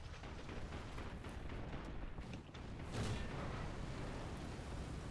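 Anti-aircraft guns firing in War Thunder, a dense rumbling barrage of distant booms and bursts that swells around the middle, faint and continuous under a low roar.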